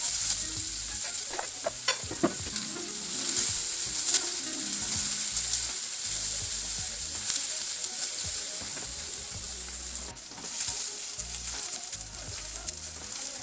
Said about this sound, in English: just a little amount of coconut oil to fry the onions